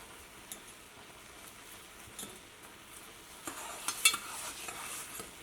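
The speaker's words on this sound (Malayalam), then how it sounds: "സൈഡിൽ നിന്ന് അടിയിൽ നിന്നൊക്കെ ഇളക്കി കൊടുക്കണം" A spoon stirs semolina cooking in milk in a pot, scraping the sides and bottom with soft, faint strokes and light taps, growing a little busier toward the end.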